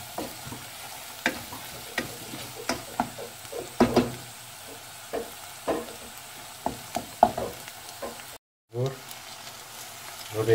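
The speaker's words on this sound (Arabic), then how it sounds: "درنا هنا الزيت، درنا هنا الزبدة، الزبدة أو البصلة بوحدهم كيتشحرو" Onion fries in oil and butter in a pan, a close, crackling sizzle broken by repeated spatula scrapes and stirring knocks in an uneven rhythm, with a brief cut near the end.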